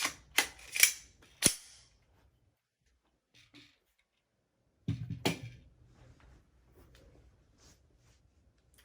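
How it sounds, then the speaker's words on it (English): A Draco pistol gets its magazine inserted and is cocked back, a few sharp metallic clicks and clacks up close followed by a heavier slide rack, separated by quiet gaps. "you put in the magazine and you cock the gun back"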